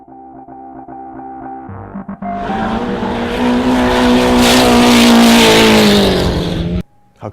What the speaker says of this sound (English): High-powered cars going sideways, burning their tires off